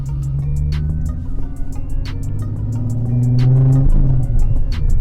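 A Nissan 370Z sports car with reworked suspension is driven on a road test. Its engine hums steadily close by, then revs up under acceleration, with the pitch rising toward the end.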